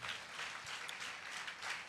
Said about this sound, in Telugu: ఒకసారి చప్పట్లు కొడతారా గట్టిగా?